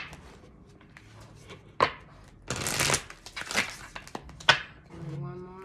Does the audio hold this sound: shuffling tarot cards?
yes